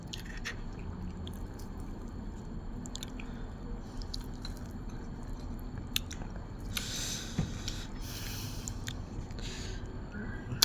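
Someone eating Thai cucumber salad with grilled field rat, close wet chewing and biting with small squishy crunches, steady throughout and no talk.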